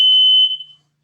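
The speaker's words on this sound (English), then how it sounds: "That's a smoke alarm." A smoke alarm gives one loud, piercing high beep that holds for about half a second and then trails off into silence.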